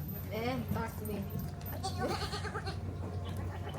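Goats bleating at Taronga Zoo with wavering, repeated cries amid a busy crowd; people chat and talk throughout over the animal calls.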